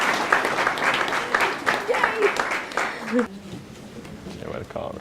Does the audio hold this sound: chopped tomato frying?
no